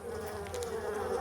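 Honey bees packed deep inside a village tree make a continuous, close buzzing hum.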